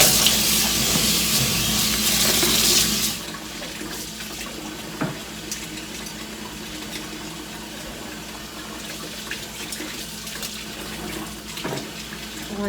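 Hot tap water runs into a kitchen sink to rinse soapy glass jelly jars and new lids, a loud steady gush for about three seconds, then quieter trickling with faint clinks and clatter.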